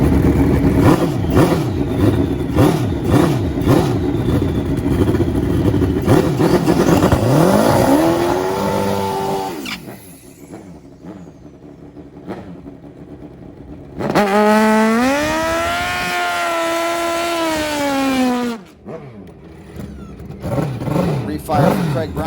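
Nitrous drag racing motorcycles roar at the track in loud bursts of revving and climbing engine pitch, with a commentator talking over them.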